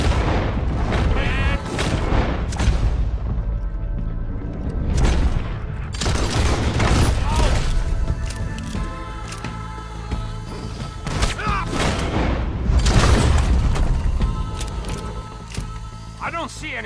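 Gunfire rings out in the video game Red Dead Redemption 2, repeated loud shots and booming bursts in irregular clusters, with character voices talking between and over them.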